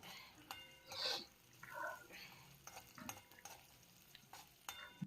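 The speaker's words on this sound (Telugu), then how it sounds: "ముక్కలుగా కోసుకున్న అల్లాన్ని లైట్గా ఆయిల్ వేసుకుని వేయించుకోవాలి" Quiet frying of ginger pieces in a little oil, with scattered clinks and scrapes of a utensil stirring, close by and fairly faint, no talking.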